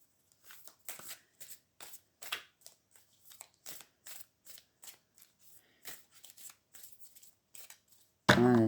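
Playing cards being dealt one by one, a steady series of close, crisp flicks and slaps on a table, followed by a louder burst at the end.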